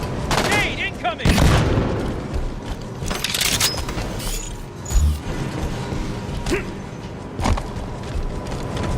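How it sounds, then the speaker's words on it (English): A grenade goes off in the Halo 5 video game, with a few heavy blasts and booms standing out among dense mechanical clatter, creaks and gunfire-like game noise throughout. "Grenade incoming!"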